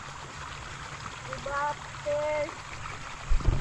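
A stream flows steadily in rainy countryside at harvest time, a continuous close rushing wash under two short spoken words, ending with a few louder splashes.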